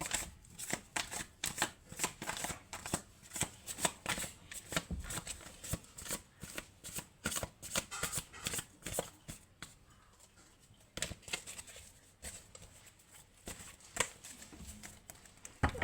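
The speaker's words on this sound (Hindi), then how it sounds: "सो मैं कार्ड्स शफल करती हूँ।" A deck of tarot cards is shuffled by hand for nearly sixteen seconds, a close, continuous run of rapid papery slaps and riffles with no talking.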